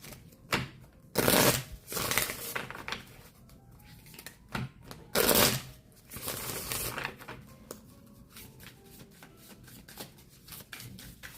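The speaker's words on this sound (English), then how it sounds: "Let's bring these up and bring out some tarot here." Tarot cards shuffled by hand in repeated quick riffling bursts, loud and close, separated by short pauses and softer handling sounds, with no talk.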